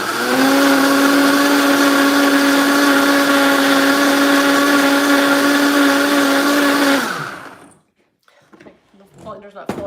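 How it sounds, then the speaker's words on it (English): A kitchen blender whirs loudly and steadily for about seven seconds while mixing a healthy holiday treat, a close, droning motor tone that winds down to silence, followed by faint rustling. "The blender's not fully on camera, but I think you guys understand how to blend."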